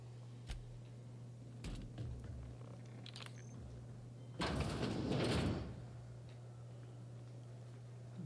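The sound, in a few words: door opening in The Outer Worlds video game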